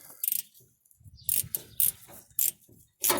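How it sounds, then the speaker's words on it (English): A ratcheting box end wrench clicks in quick bursts while loosening a car's front shock, each burst a short run of sharp ratchet ticks separated by brief pauses, close up with no talking. "That's why I love ratcheting box end wrenches."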